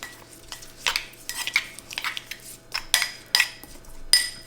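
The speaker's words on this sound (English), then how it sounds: "Give that a good mix." An olive oil marinade for lamb chops is mixed in a bowl, giving a run of irregular clinks and scrapes of a utensil against the dish, close and fairly loud, with no talk.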